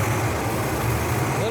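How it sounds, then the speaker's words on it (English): The V8 in a 1968 Camaro RS/SS idles at close range with a steady, low, burbling rumble, while someone talks over it. "look at that, idling at 800, oil pressure 45"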